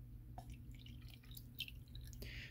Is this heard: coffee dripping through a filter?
yes